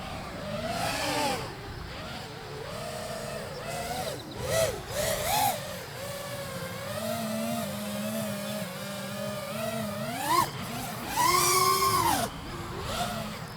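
An FPV drone's motors whine and rise and fall in pitch while it yaw-spins outdoors near trees. The buzzing, wavering tone holds for the whole stretch and surges louder toward the end.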